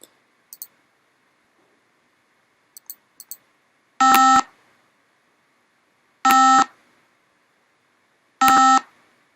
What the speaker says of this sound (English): that should now give me a short bip, run through there, bip, bip